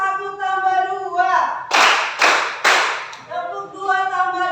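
A class of children claps in a counting game, giving three sharp, loud claps in a row between stretches of sung or chanted voices.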